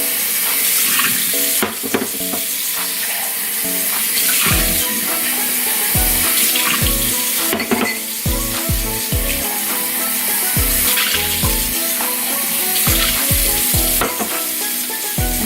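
Baking soda and vinegar fizz in a toddler play activity, a loud, dense crackling hiss with splashy stirring and sloshing, dotted with sharp clicks and knocks against the container.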